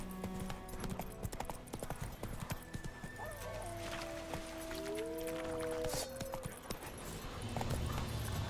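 Geralt's horse Roach gallops in The Witcher 3 on PS5, steady hoof clip-clops drumming under a long, clear neigh in the middle; the hoofbeats keep going throughout at moderate loudness.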